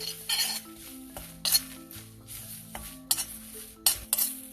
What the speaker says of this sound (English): Now we have to fry even curry leaves the same way till they become crisp.